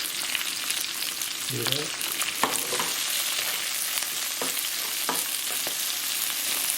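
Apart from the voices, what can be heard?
stir-frying oyster mushrooms with young ginger in a pan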